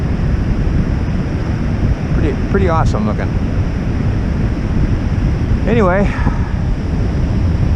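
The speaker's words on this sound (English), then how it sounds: "those are way up there, those waves." Ocean waves breaking on a windy beach, a continuous loud roar of surf and wind buffeting the microphone while someone speaks briefly.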